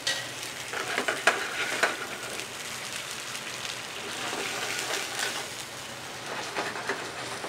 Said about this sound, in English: And then we add about half a cup of veal stock, brown veal stock.